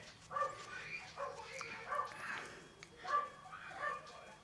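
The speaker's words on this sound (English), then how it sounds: "I'm really sorry guys if you can hear that dog" A neighbour's dog in the flat downstairs barks in short repeated bursts, muffled and distant through the floor, in a quiet room.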